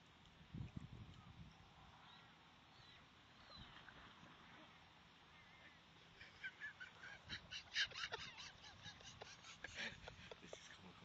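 Several swans honking near an angler at the waterside, a faint scattered series of nasal honks growing busier toward the end, distant and quiet under outdoor ambience.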